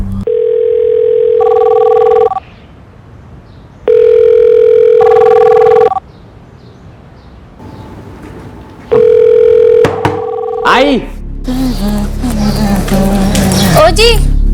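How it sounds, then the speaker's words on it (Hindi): Telephone ringing in a domestic crime drama scene, loud repeated electronic ring bursts with pauses between them, followed by a handset being picked up and people talking. "हाँ आपका फोन है।"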